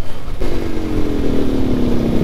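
A motorcycle with no exhaust fitted roars in loud and close after a brief moment, its raw engine note sliding slowly lower as it rides on.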